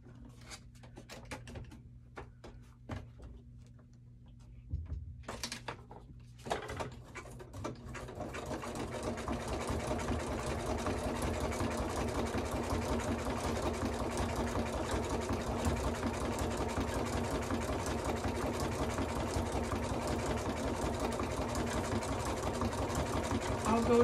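A sewing machine stitches through cardboard junk-journal pages, starting after a few seconds of handling clicks and thumps, then running as a loud, steady, fast mechanical chatter for the rest of the stretch.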